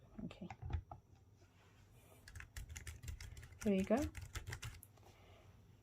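Tapping keys on a Bluetooth keyboard case paired with a Samsung Galaxy Z Fold4 phone, a run of light, close clicks under brief talk.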